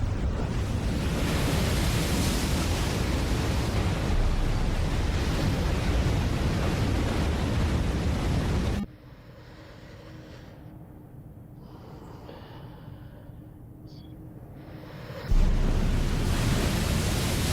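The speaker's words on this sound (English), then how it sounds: "Love the sound of the water." Water and waves in a short film: a loud, steady broadband wash of surf fills roughly the first nine seconds, then drops to a quiet, sparse background before the full rushing sound briefly returns near the end.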